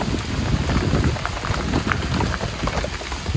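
Heavy rain pours steadily on an open field in the countryside, a dense, loud, close hiss of drops with no pauses and no voices.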